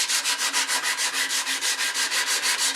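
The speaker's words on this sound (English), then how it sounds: "this sandpaper cleans it up pretty fast" Sandpaper worked by hand along the edge of a wooden chair, giving quick, even back-and-forth rasping strokes, about five per second, close and steady with no voices.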